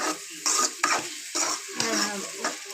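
Food frying and being stirred in a pan, a bright crackling sizzle broken by repeated scraping strokes of a utensil, close and fairly loud with no talking.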